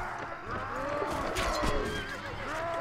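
A horse neighs loudly and close in the game Mount and Blade Warband, a drawn-out whinny with wavering pitch over a busy battle backdrop.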